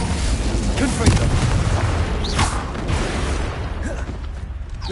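The Confringo explosion spell goes off in Hogwarts Legacy on PS5, a loud, rumbling blast with crackling bursts that carries throughout, with a voice briefly audible.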